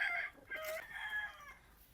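Chickens on a farm give a short run of close, clear clucking and crowing calls over about two seconds.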